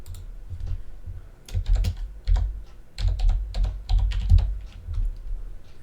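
Rapid typing on a computer keyboard, with bursts of close, clicky keystrokes in uneven rhythm and brief pauses between runs, no voices.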